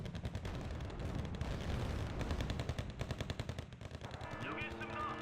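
Dense, sustained automatic gunfire and explosions from a Wargame: Red Dragon battle, with rapid continuous bursts throughout and a rising whine near the end.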